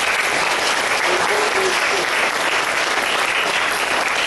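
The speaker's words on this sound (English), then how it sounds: "why don't we give them a big round of applause" Loud, dense applause from a lecture audience honoring the program coordinators of a camp, steady and continuous throughout with no pauses, filling the room at close range.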